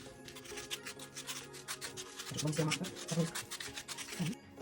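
Salt and glitter are mixed on a piece of cardboard, giving close, gritty rubbing and scraping strokes in a quick rhythm. Faint low voicing sits underneath partway through.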